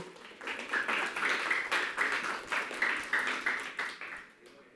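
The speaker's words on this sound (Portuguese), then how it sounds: "Dê uma salva de palmas ao Senhor" Church congregation clapping in rhythmic bursts, a fairly quiet but steady patter of many hands in repeated beats that thins out near the end.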